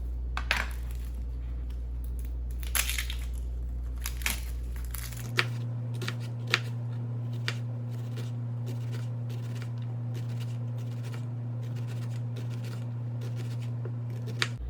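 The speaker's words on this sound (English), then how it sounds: "So I'm going to dice my onion." A sharp knife dices onion on a cutting board, giving a run of crisp, quick chops and taps, close and distinct, over a steady background hum.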